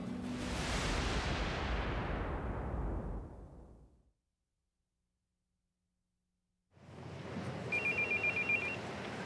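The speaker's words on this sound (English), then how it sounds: "That would be a cell phone." A cell phone rings near a golf course during a PGA Tour Pro-Am, its repeated electronic tone chirping in short pulses over loud broadband noise after a stretch of silence.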